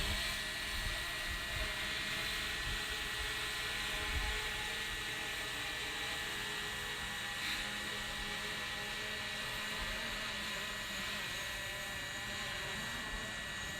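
DJI Mavic Pro drone in flight, giving a steady high-pitched propeller whine with a faint rising note partway through, heard continuously over light wind rumble.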